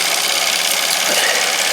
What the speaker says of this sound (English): I'm not messing with the engine, I'm just letting it run.